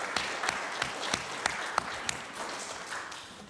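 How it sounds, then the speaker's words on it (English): A modest crowd gives a round of applause at a college panel event in Oakland, the moderate clapping steady with a few sharper individual claps, fading slightly toward the end. "Round of applause for Prentice Mayo."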